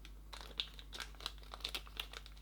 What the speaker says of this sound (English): There's also this little mystery plastic bag that looks empty at first sight, but it's not.